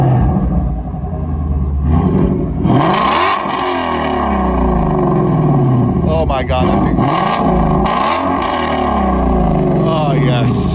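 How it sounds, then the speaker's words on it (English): A 2016 Shelby GT350R with its resonators deleted revs its engine, throaty sweeps climbing and falling several times from a rumbling idle, loud and close, while excited voices talk over it. "Javier just turned the car on for us. He's going to give us a few revs."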